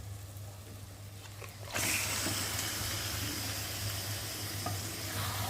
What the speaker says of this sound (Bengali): আমি এবার চিকেনটাকে ঢেলে দেবো